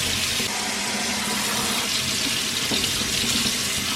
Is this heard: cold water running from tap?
yes